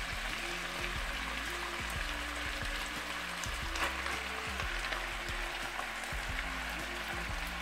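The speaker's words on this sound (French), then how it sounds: "Donc maintenant, je viens rajouter les oignons." Onions frying in oil in a pot for a chicken and rice casserole, a steady close sizzle with faint crackles running continuously, a low hum underneath and no talking.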